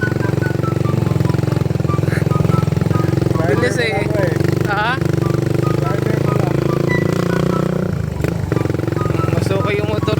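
Motorcycle engine droning steadily as it climbs a mountain road, a loud continuous labouring hum with some clatter, people talking over it throughout.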